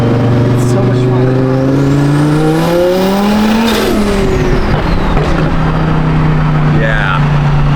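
An Audi R8 engine revs at quarter throttle, close and loud, with a sweeping rising and falling pitch that swells then settles into a steady idle-like drone.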